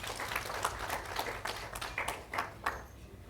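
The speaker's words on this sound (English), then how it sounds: "Can you clap for the men in the house?" Scattered clapping from an audience at an International Women's Day celebration in Nakuru, fairly faint and uneven, with individual sharp claps standing out against a low background hum.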